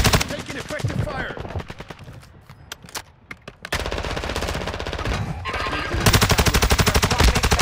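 Rapid automatic gunfire in Call of Duty: Modern Warfare II, loud close bursts of machine-gun shots with a short lull, then dense sustained firing resuming and intensifying toward the end.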